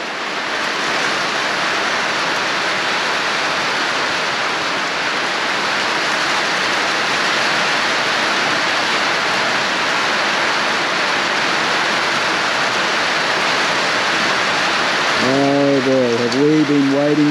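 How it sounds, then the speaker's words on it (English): Heavy rain pours down in a dense, steady hiss that lasts throughout; near the end a voice speaks faintly under it. "The rain is coming. Can you hear it?"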